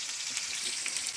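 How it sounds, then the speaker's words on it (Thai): Hot oil sizzles and crackles steadily as potatoes fry into French fries, a close, continuous hiss with small pops. "โอ้น้ำมันเดือด"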